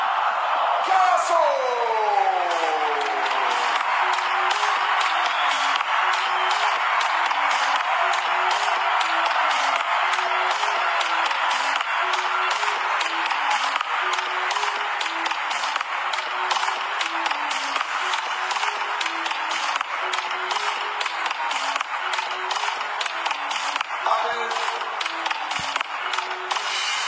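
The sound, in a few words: crowd applauding player Johan Carasso at Stade de Reims trophy ceremony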